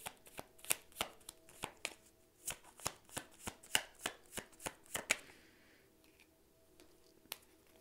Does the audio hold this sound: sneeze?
no